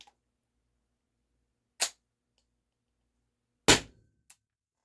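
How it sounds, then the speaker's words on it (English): An HDR68 gun fires test shots: two sharp, loud, isolated pops a couple of seconds apart, the second with a short ringing tail, followed by a faint click, in an otherwise quiet space. "I don't think I'll be shooting this in the backyard. It's pretty loud."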